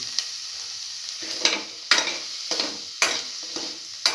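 Eggplant pieces and green chili sizzle in a pan, with a spatula scraping and stirring at a rough, uneven rhythm over a continuous close-up frying hiss.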